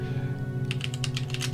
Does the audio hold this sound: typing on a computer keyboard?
yes